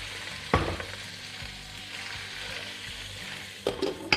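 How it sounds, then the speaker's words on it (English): Spinach fries in a pan, a steady close sizzle with a few sharp clatters near the start and end, and no voices. "now let's add the spinach."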